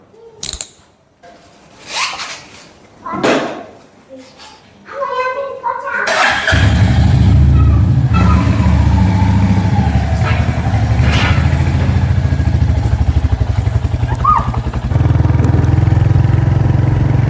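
A Royal Enfield Hunter 350 motorcycle sets off on a road ride toward Rangpur. After someone speaks briefly, the engine takes over as a close, steady, loud drone that holds for the rest of the clip.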